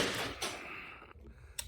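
A single Beeman .50 caliber air rifle shot at 39 joules: a sharp report near the start with a brief decaying tail, then a short click, all faint and close.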